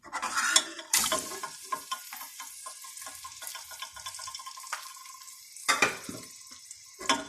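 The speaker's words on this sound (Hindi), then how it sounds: "घी हमारा गर्म हो गया, अब मैं प्याज डालने लगी हूँ।" Chopped onions frying in hot ghee in a home kitchen, with a steady sizzle broken by several clattering stirs of a utensil against the pan, close and fairly loud.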